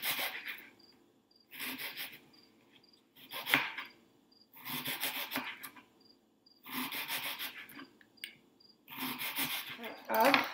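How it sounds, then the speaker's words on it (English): A knife dices an onion on a cutting board in a home kitchen, in rapid bursts of close, crisp chopping taps separated by short pauses, with no talking. "then I'm going to be dicing my onion"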